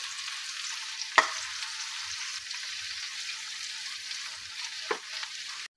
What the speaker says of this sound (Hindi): वेजिटेबल्स हमारी बहुत अच्छी फ्राई हो गई हैं।